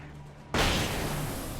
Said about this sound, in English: Oh my god, flashbang.